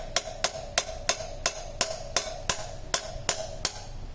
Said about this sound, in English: And I'm going to tap it with a hammer.